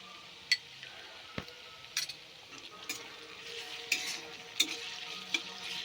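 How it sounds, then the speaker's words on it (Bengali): Onion frying in a pan with garlic paste and ginger paste added, giving a soft steady sizzle broken by sharp scrapes and clicks of a spoon stirring the mixture. "পেঁয়াজটা 5 মিনিট ভাজা ভাজা করে নিয়েছি"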